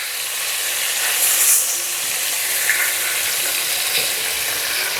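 Polish kotlety cutlets sizzling in a frying pan as they are flipped, a loud continuous crackle with a short swell of hissing and faint scraping partway through, no talking.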